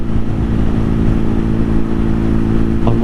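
Motorcycle on a multi-day touring trip along the UK south coast, its engine droning steadily and loud at close range with a low rumble throughout, plus a brief clatter near the end.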